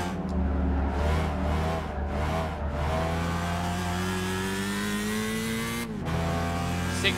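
Race car engine in Gran Turismo 5 revving loud and steady with rising and falling pitch as the car slides through corners, a brief dip near the end, no talk.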